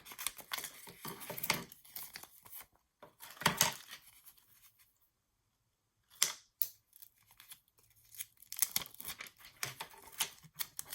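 A strip of tape is pulled and torn for a paper-craft index card journal: several close crinkling, ripping bursts with quiet gaps between, the loudest rip near the middle, and no voices.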